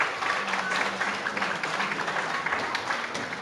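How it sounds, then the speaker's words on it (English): An audience at a school award presentation claps for a class, a thick, sustained round of applause from many people with a faint voice underneath. "A round of applause for class 10."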